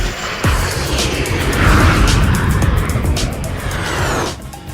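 A jet airliner takes off from a crosswind runway at MSP International Airport in Minneapolis–St. Paul, its engines a loud, sustained roar that swells and fades over several seconds, heard alone.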